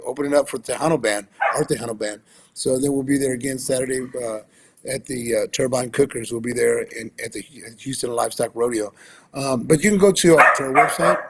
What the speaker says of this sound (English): Sorry about my dogs. I apologize. We got a little puppy.